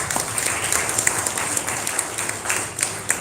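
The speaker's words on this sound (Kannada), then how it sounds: "ಜೋರಾದ ಚಪ್ಪಾಳೆ." Loud, continuous audience applause at a live Karnataka classical music concert, dense crowd clapping with some sharper individual claps standing out.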